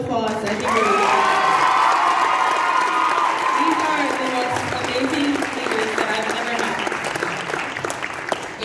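Audience at a high school show choir cabaret applauding and cheering, with whoops and shouts over dense clapping that holds steady throughout, with some voices audible.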